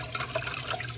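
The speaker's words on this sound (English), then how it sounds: "We are rinsing the curds with cool water." Cool tap water runs steadily over cream cheese curds to wash off the whey, a continuous close hiss of flowing water with no talk.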